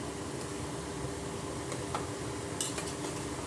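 A rice mixture with hot water being stirred in a pot for bagara rice, a soft low bubbling and hiss with a few faint metallic scrapes and clinks of a spoon near the end.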